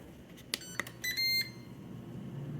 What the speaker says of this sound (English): I'm gonna put these back in my air fryer, turn my air fryer back on.